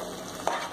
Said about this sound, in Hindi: अब इसे कंटिन्यू इस तरह से चलाते रहेंगे जब तक हमारे कढ़ाई में से घी छूटेगा नहीं